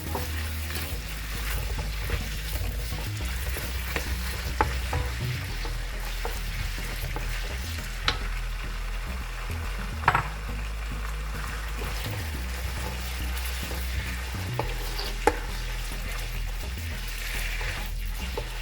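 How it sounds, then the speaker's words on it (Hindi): Onion and chicken stir-fry in a pan for chow mein, giving a continuous low sizzle with scattered ticks and scrapes of stirring over a steady rumbling base throughout. "इस प्याज को 2 मिनट तक हल्का चलाएंगे। इसमें चिकन डाल लेंगे"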